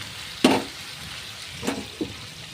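Tilapia fish frying in oil, a low background sizzle punctuated by three short bursts of louder crackle or spatula contact, the first strongest, close and without speech.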